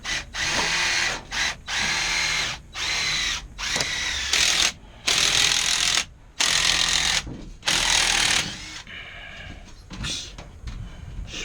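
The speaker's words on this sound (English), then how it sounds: "Swagging at high speed." A power swaging tool crimps a 3/8 inch swage into sheet metal duct at high speed, loud mechanical bursts of whirring and clattering repeated in quick runs with short pauses between.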